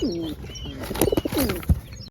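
Pigeons coo close by in soft repeated throaty calls, with a few chirps and a brief flutter mixed in.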